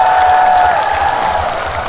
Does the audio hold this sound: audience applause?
yes